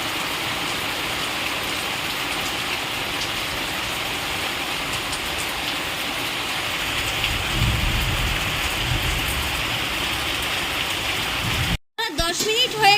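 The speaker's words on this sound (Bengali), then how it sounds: "দেখুন বাইরে কীরকম বৃষ্টি নেমেছে" Heavy rain pours steadily outside, a dense continuous hiss with a low rumble swelling midway like distant thunder, then a brief cut and some closer clatter at the end.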